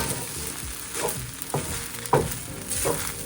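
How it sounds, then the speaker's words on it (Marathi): Shrimp fried rice for an Indo-Chinese dish sizzles steadily in a pan, broken by a few sharp scrapes and clinks from the stirring utensil. "मस्तपैकी ढवळून घ्या"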